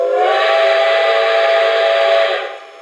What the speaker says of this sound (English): So if I hit the whistle now